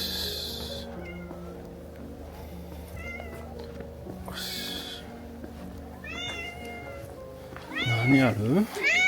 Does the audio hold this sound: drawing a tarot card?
no